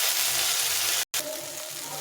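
Tomato, green chili and ginger paste sautéing in a pan, giving a steady close sizzle with a short silent break in the middle, then more frying hiss, without any talk.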